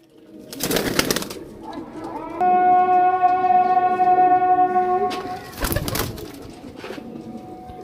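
Pigeons at a roadside sale in Sarai Alamgir, Gujarat, cooing in a sustained, resonant call near the microphone, bracketed by short bursts of handling or wing-flapping noise, with no talk.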